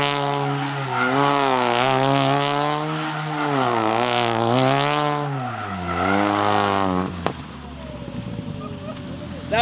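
Big single-turbo Ford Focus RS engine roaring loud and close at high revs, pitch swinging up and down as it drifts, then cutting off into a quieter rasp; talk overlaps the engine.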